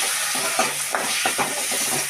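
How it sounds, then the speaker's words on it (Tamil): Chopped tomatoes and prawns frying together in a pan for prawn gravy, a steady close sizzle with occasional stirring scrapes and bubbling pops. "ஒரு 3 தக்காளி வெட்டி போட்டிருக்கோம். அதையும் அதோட சேர்த்து நல்லா பறிச்சுட்டுருக்கோம்."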